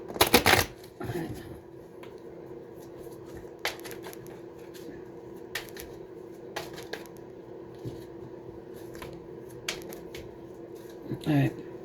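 Tarot cards are shuffled by hand during a psychic reading, with a loud riffle at the start and end and softer scattered card snaps and slides in between.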